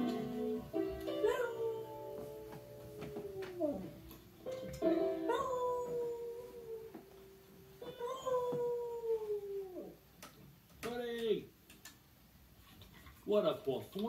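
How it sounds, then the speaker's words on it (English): A dog howling along in long, wavering, rising and falling vocal phrases, several sustained howls in sequence, fairly close and clear, with brief gaps between them. "a dog that sings"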